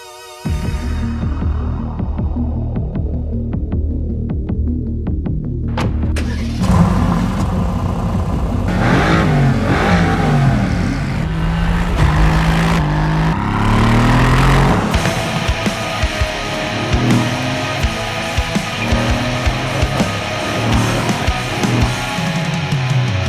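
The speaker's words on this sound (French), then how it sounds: "Eh bien Gilles, vérifions si le feeling passe autant sur la route. On y va, Vanessa." A Mercedes-AMG GT pulls away onto the road, its engine rumbling and rising steadily through acceleration, loud and close, with no voices over it.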